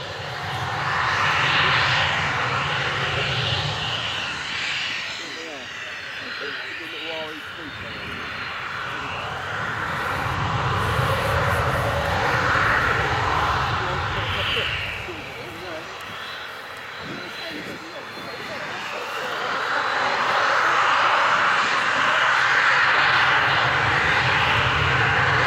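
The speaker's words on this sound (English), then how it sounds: "Beginning his takeoff run in the Yak-130." Russian Air Force Yakovlev Yak-130 jet trainer at an airshow beginning its takeoff run, a loud sustained jet engine roar that swells and ebbs over the whole stretch, with a voice talking over it.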